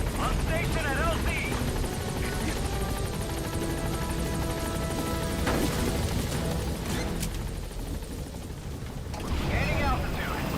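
Helicopter arriving at a landing zone in Metal Gear Solid V, a loud steady rotor drone filling the scene with a chopping texture, while voices speak over it.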